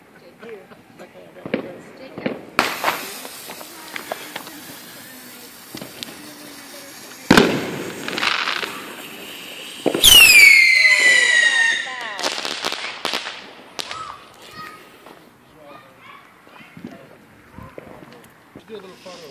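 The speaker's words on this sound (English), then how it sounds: "Second fire rocket." A fireworks rocket is set off outdoors with sharp bangs and pops, a rising whistle and crackling bursts, loud and close, while people talk intermittently around it.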